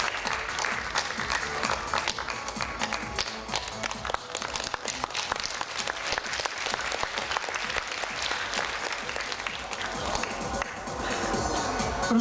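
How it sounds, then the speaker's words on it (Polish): An audience at a modern dance championship bursts into loud, sustained applause, a dense wash of clapping that fills the hall for the whole stretch without letting up. "Ogromne brawa."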